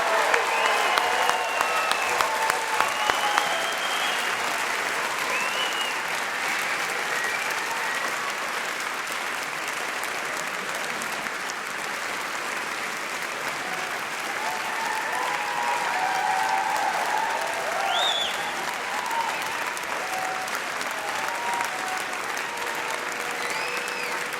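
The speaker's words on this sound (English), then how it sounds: "Please join me in a final round of applause to the 2016 graduating class." A large crowd at the NYU medical school graduation ceremony for the 2016 class claps in sustained, dense applause. It holds steady at a roomy distance for over twenty seconds, with faint cheers and voices mixed in.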